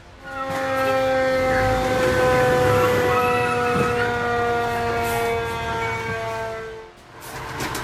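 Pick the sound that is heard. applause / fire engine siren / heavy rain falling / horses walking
fire engine siren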